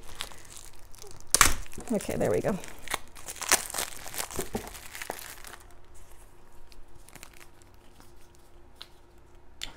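Crinkly plastic packaging rustles and crackles in bursts as it is handled, with a person talking briefly over it, then quieter afterward.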